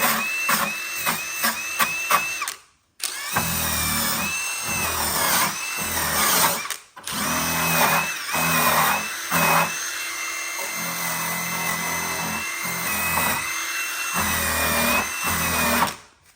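A power drill fitted with wire brushes scours rust from an old trunk, whining loudly in repeated bursts with brief stops between them. The scraping grind shifts in pitch as the brushes bite the metal.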